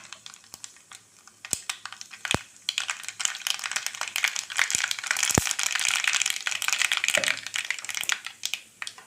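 Mustard seeds popping in hot coconut oil in a pan for a fish curry: sharp, irregular crackles and snaps over a hissing sizzle that builds in density, with no talking.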